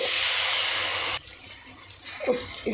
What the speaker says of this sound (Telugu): మునక్కాయలంతా మునిగేంత వరకు వాటర్ యాడ్ చేయండి